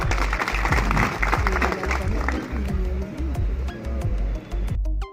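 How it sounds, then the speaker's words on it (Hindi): Audience applause welcoming a speaker at a gathering of DJ operators in Muzaffarnagar, Uttar Pradesh: a few seconds of steady clapping from the crowd, mixed with loud background music and talk. "इनके लिए जोरदार तालियों से स्वागत"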